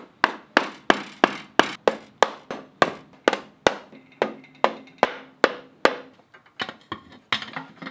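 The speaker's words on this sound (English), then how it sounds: "I'll just use rubber mallet on this" A rubber mallet strikes a BMW bell housing in a steady run of about twenty sharp, close whacks, evenly spaced at first, then slowing and turning irregular toward the end, with no voices.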